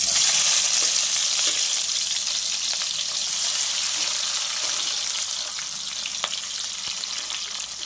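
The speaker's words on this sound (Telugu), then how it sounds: "ఉల్లిపాయలు వేగనివ్వాలి." Onions and green chillies fry in hot oil in a pan for mutton gravy curry, giving a loud, continuous close-up sizzle with faint stirring clicks and no voices.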